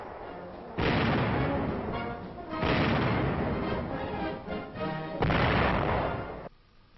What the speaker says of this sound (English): An aircraft machine gun. Other guns are demonstrated in separate and comparison firing.